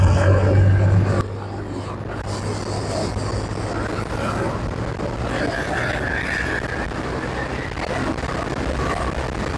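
An RKS Grace 202 motorbike engine revs up gradually with a steady, broad rumble, and strong wind buffeting the phone microphone throughout.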